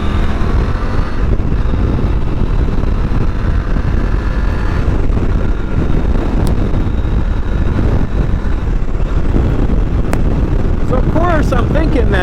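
Steady wind rush buffeting a helmet-mounted camera on a Triumph Tiger 850 Sport motorcycle, loud broadband roar with engine and road noise underneath throughout.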